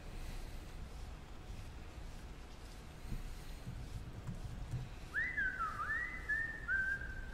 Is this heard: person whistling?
yes